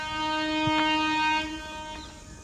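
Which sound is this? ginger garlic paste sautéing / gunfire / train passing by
train passing by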